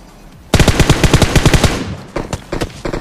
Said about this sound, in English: His friend is shooting at me, I'm very low.